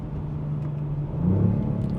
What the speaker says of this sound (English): Definitely get more induction noise in sport mode.